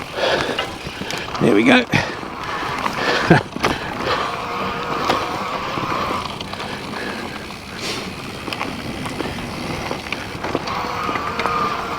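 Volition Max 500 electric bike ridden over rough forest ground with gnarly roots, steady rolling rumble and rattling bumps throughout, a few sharper knocks, with someone talking over it.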